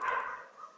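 A dog barks once, a short faint bark fading out, heard alone.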